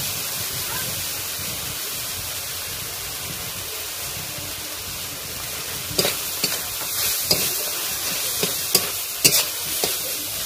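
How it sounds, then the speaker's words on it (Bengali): Cabbage ghonto sizzles in a pan after cumin powder goes in, with a steady fry and, midway, a series of sharp scraping stirs from a spatula. "জিরের গুঁড়োটা দিয়ে ভালো করে একটু নেড়ে চেড়ে নেবো"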